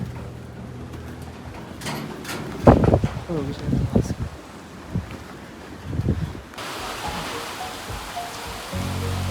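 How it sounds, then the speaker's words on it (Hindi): Heavy rain falls during a solo trek, a steady broadband hiss with gusts of wind buffeting the microphone, while someone talks over it intermittently. "और बहुत तेज़ बारिश हो रही है, बहुत ज़्यादा।"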